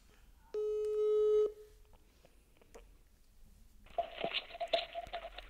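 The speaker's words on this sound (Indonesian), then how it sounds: "gue bakal telepon orang yang bakal bercerita, yaitu Gigi dari Jakarta" A telephone call tone: a single steady electronic beep is followed by a pause, then a burst of rapid trilling ringing. No voices are heard.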